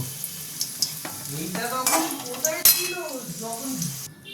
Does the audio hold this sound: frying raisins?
yes